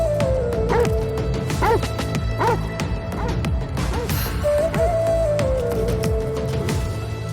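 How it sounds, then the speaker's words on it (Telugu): A stray dog barks repeatedly in a building, several sharp yips and barks in irregular bursts, close and clear, over a steady background hum with a sliding tone. "ప్లాట్ఫామ్ కుక్క అరుస్తుంది సార్."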